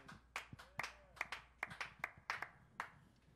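A small audience claps at a live jazz trio show at The 1905, about a dozen sharp, sparse claps in an irregular rhythm, quiet and close, with no talking.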